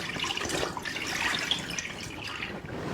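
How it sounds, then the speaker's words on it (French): Dirty water from a DustGo carpet shampooer's tank being emptied into a sink, a steady splashing pour running throughout at moderate level with no talk. "Et on vide le réservoir dans l'évier."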